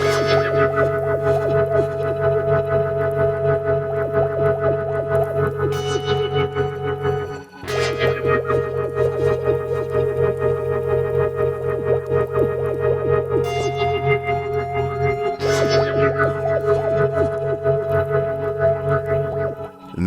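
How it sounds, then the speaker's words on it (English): A filtered tremolo effect sweeps back and forth inside a looping beat, giving a wobbling wow under steady repeating chords. It resets in phrases of roughly eight seconds, and there is no talking. "I have this tremolo thing being filtered back and forth, and this is what makes that little wow sound in the background"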